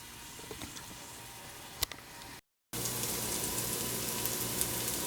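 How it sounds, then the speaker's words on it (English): Onions and garlic frying in a pan with a steady close sizzle. After a brief cut it returns louder and denser, with a few faint clicks in the quieter first part and no speech. "the onions and garlic are in the pan and they're getting pretty much translucent"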